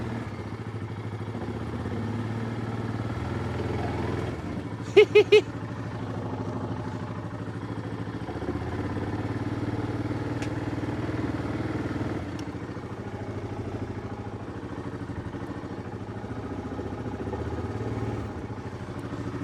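A 2022 Ford Maverick pickup truck idles and creeps slowly up onto wheel wells, a steady low engine rumble throughout with a brief burst of metallic clatter near the middle.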